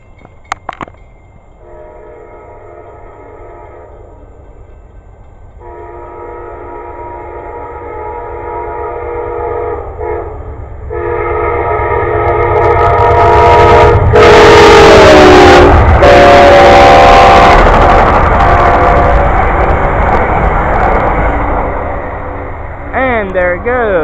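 A train rumbles past close by, its horn sounding in long tones, the roar building to a loud peak of clattering wheels before easing.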